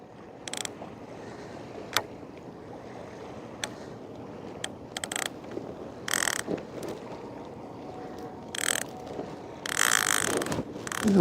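On a calm day of fishing from a rock, a reel's ratchet gives scattered sharp clicks and short buzzing runs that grow longer and louder toward the end, over faint outdoor background.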